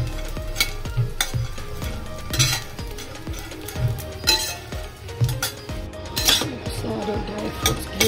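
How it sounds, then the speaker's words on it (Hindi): Makhana (fox nuts) roasting on a low flame while being stirred in a pan, with repeated scraping and clinking strokes at a steady rhythm and a light background sizzle, close and moderately loud. "तो बिल्कुल लो फ्लेम रखने हैं इसे भूनने के लिए, बिल्कुल लो फ्लेम में"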